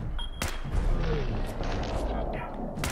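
Gunshot from a headshot in the Fallout 4 video game on PC, a short sharp report with a dense rumbling mix of game sound around it.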